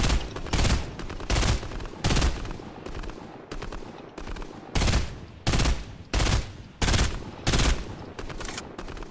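Repeated bursts of loud Fortnite gunfire arrive in quick rapid-fire volleys separated by short gaps, close and dominant throughout.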